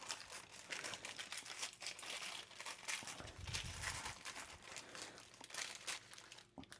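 Paper crinkling and crumpling close by as Christmas stollen is wrapped, folded and tucked, a steady rustle throughout with a denser, louder stretch midway and no talking.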